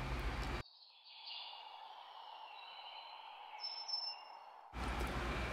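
A falcon gives thin, high, drawn-out calls that waver and overlap, fairly close and alone, with a brief moment of voice at the very start and end.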